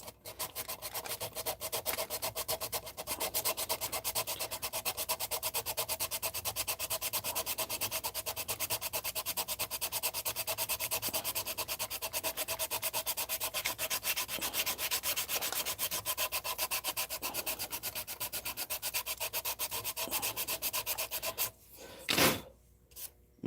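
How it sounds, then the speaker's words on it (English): Steady, continuous scratchy rubbing of a sanding stick on a 1970 Chevelle scale model body, close and even for a long stretch, ending with a brief pause and a couple of light knocks. "I'm going to get my sanding stick."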